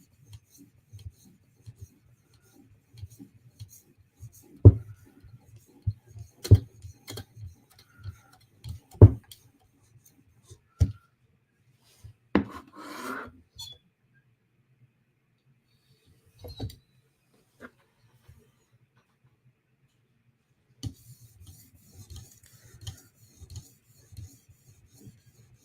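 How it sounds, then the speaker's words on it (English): A blade is polished on a 2000 grit whetstone, stroked both directions in scattered quiet rasping passes, each stroke a short scrape with silent gaps between them. "Polishing on 2000 grit, going both directions"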